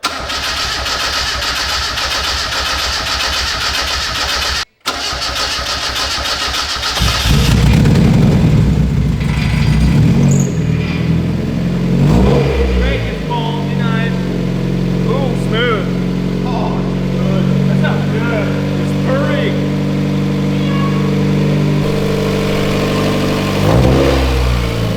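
A swapped engine in a Mazda Miata cranks with a fast whirring starter, catches, and settles into a loud idle broken by several sharp revs, heard up close with people talking over it.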